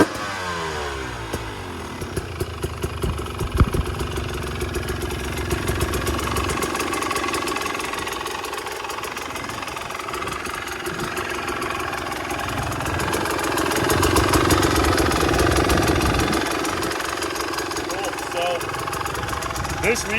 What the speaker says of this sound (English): Gotta love that diesel.